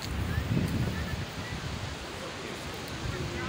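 Sea waves wash continuously onto a beach where fishermen are readying a net, a broad steady surf hiss mixed with wind buffeting the microphone, moderately faint and without clear individual breakers.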